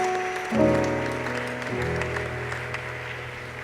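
Church audience at a women's convention applauds to welcome visitors, a steady wash of clapping that swells sharply after half a second and holds over sustained keyboard tones.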